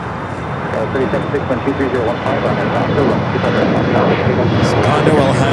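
Steady roar of an airliner's engines at Los Angeles LAX airport, loud and continuous throughout, with a radio voice talking over it.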